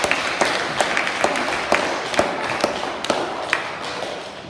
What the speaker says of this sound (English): one more big clap for our super guitar and ukulele players